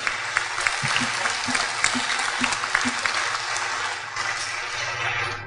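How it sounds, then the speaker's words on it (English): Sustained crowd applause at a livestock sale of champions at the Missouri State Fair, a steady wash of many hands clapping in a large venue, with faint cheers and a few louder claps poking through. "just give them a big round of applause"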